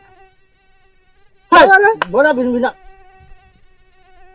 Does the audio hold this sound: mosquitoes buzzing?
yes